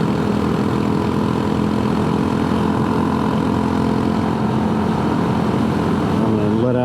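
A scooter engine runs hard at speed on a long-distance rally ride, a loud, steady drone mixed with rushing wind. It eases slightly as the throttle comes off at the very end.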